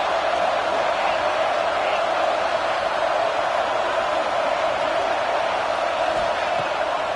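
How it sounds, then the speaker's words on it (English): Ohio State Buckeye football crowd in a stadium roaring on third down, a dense, loud and unbroken wall of noise lasting the whole stretch. "The Buckeye crowd alive on third down"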